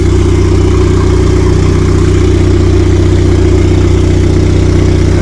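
A turbocharged Honda Civic engine runs at its first startup with the exhaust not fully connected, a loud, steady, droning idle with a strong low hum and a continuous rasp, up close and alone.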